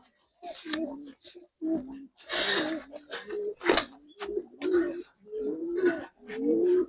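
Giribaz and colouring pigeons cooing in a loft, a run of repeated low throaty coos in uneven bursts, close and fairly loud, with a few sharper calls among them.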